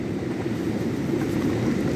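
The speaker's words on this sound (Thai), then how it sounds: "ได้ยินเสียงน้ำไหลเลยพี่น้อง" Steady low rushing of flowing water, continuous and fairly close, with no voices over it.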